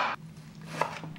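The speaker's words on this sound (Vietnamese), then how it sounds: "mình cũng cắt nhỏ cái baro trắng này ha" A knife chops the white part of a leek on a board, with a few sharp, separate cuts spaced unevenly and close by, and no talk over them.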